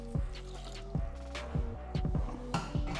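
Water trickles and drips into a pan at close range, a few separate splashing pulses with soft dribbling between them, fairly quiet and with no talking.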